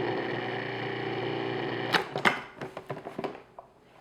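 A food processor whirs steadily for about two seconds mixing flour, salt and dry ingredients for a blueberry pie crust, then stops, followed by a scatter of clunks and taps from the bowl and lid.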